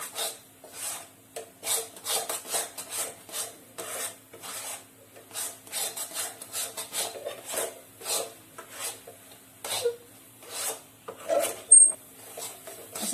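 Mango mawa barfi mixture being stirred and scraped in a pan over low heat, a steady run of rhythmic rasping strokes of a spatula against the metal, close and fairly quiet with no talking.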